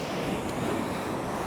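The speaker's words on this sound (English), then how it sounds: "when these waves come in, you can see how it's all wet here" Ocean surf surging onto rocks at a rugged coastal point, a continuous broadband wash of water, loud and close with wind buffeting the microphone and no voices.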